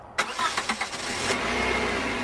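A car engine starts up just after a cold air intake install: a few loud, close cranking pulses, then it catches and settles into a steady idle.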